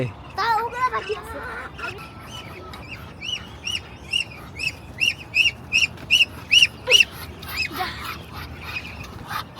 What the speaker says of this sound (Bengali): খাবারের জন্য তো সবগুলো হাঁস বের হয়েছে